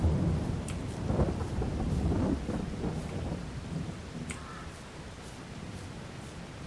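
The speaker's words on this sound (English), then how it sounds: "when you walk at a certain angle, the raindrops appear to reverse and start going up" Steady rain with rumbling thunder in the Farming Simulator 22 video game, a continuous wash of rainfall with low rolls of thunder swelling and fading throughout, with no talk.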